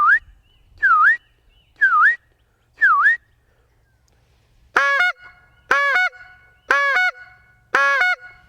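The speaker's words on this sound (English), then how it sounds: "now that's a simple honk." A short reed goose call blown in short bursts: four thin whistled notes, a pause, then four loud, nasal reed honks evenly spaced, alone with no talk.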